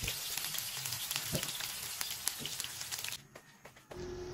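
Mushrooms frying in oil in a pan hiss and crackle steadily at close range, with a brief clatter of stirring, before the sizzle drops away near the end.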